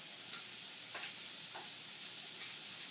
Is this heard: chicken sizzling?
yes